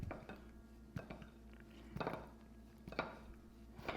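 Flour being folded into berry donut batter in a bowl, with a spatula knocking against the bowl about four times in a loose rhythm over a low, steady kitchen hum.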